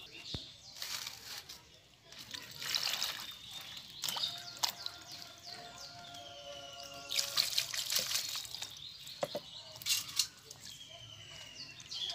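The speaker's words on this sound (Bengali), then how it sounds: "ঢ্যাঁড়সটা আমি এখন ধুয়ে নেব" Okra is rinsed in water by hand, giving intermittent trickles, splashes and drips in short bursts with quiet gaps between them; no one talks.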